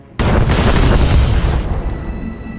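A single loud, close breaching explosion in the game Star Wars: The Old Republic, a sudden blast that erupts at once and then roars and crackles for about two seconds before starting to fade.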